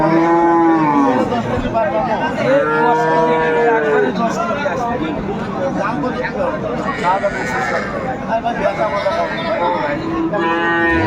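Dairy cows and young calves moo loudly and repeatedly at a busy cattle market in Netrokona, with long drawn-out calls rising over the chatter of people talking.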